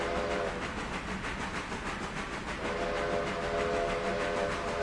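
A locomotive in the Railroader video game speeds downhill, with a steady loud rolling rumble throughout and two sustained whistle blasts, one at the start and a longer one in the second half.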